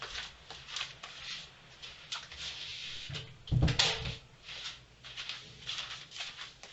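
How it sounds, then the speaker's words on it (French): An indoor door is pulled shut with one brief thud near the middle, surrounded by faint room noise and rustling. "je vais fermer la porte"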